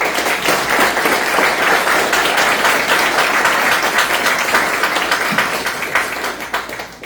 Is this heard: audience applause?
yes